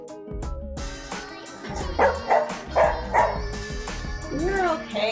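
A dog caught on a doorbell camera barks and yips in several loud, close bursts, with people talking and exclaiming around it.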